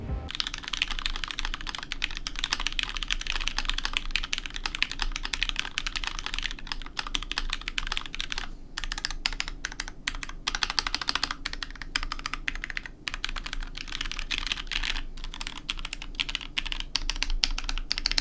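Continuous fast typing on a $149 mechanical keyboard with a numpad, dense close clacking keystrokes with occasional heavier spacebar hits, no talking.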